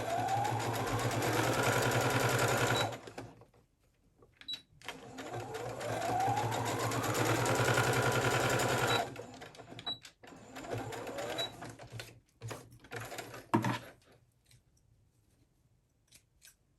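Sewing machine stitching a quarter-inch seam around the back neck of a beginner's blouse, steady close whirring runs of needle chatter that pause and restart, with soft handling clicks and fabric rustles in between.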